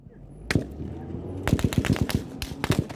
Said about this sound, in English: but another hail of gunfire erupts.